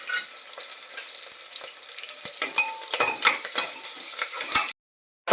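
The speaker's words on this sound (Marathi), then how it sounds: "उभा चिरलेला कांदा दोन कांदे चिरलेले होते हे चांगलं परतून घेऊया" Sliced onions with cumin and curry leaves fry in a pan, a soft sizzling hiss punctuated by sharp clinks and scrapes of a spoon against metal, ending in sudden silence.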